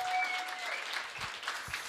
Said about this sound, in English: So I would like to have a big round of applause for Bianca.